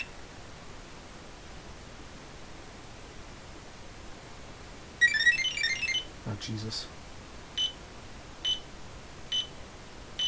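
Beeps from an Ideal Maniac electronic handheld game: a rapid burst of high electronic beeps, then several slower single beeps spaced out, with a brief voice in between, all over a hissy background.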